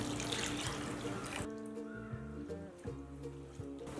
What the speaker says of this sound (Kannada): ಕ್ಲೀನಾಗಿ ಒಂದು 3-4 ಸರಿ ತೊಳ್ಕೊಳ್ಳೋಣ.